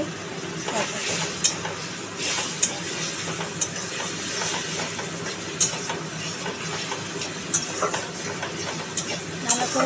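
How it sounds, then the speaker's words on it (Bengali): Spice paste with four green chillies frying in a pan for a Bengali fish curry, a continuous hissing sizzle punctuated by repeated sharp spatula scrapes and taps, close and fairly loud. "চারটে কাঁচা লঙ্কা দিয়ে দিলাম, নিয়ে মশলাটাকে কষাতে হবে"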